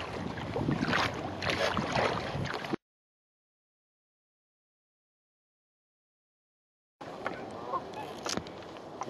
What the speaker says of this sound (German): Ein paar Gänse hier auf dem kleinen Schwimmponton oder Badeponton.